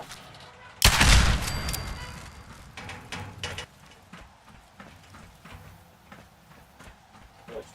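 Turrets open fire in Fallout 4. A loud, close blast is followed by a rapid rattle of gunfire that fades into scattered, fainter shots.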